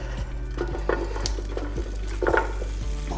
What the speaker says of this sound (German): Jetzt braten wir das Gemüse an, zweiten Durchgang.